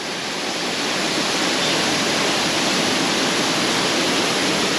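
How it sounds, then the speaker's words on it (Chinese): Shengaokeng waterfall in Shenkeng, New Taipei, swollen after rain, pours as a loud, close, unbroken broadband roar of falling water with no other sounds. "水量多的时候，深高坑瀑布看起来蛮壮观的。"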